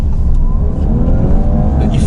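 A 2019 Audi A5 Sportback with quattro drive accelerates hard, its engine note rising loud and close inside the cabin while a person speaks over it.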